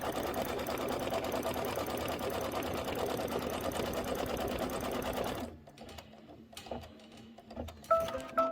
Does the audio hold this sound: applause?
no